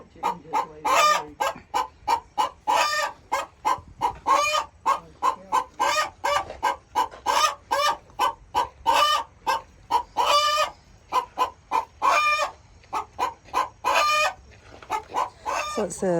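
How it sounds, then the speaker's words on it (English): A live chicken in a farm pen at a mountain farm museum clucks rapidly and repeatedly, the close, loud calls coming in quick uneven bursts. "Oh, there's a live chicken in there."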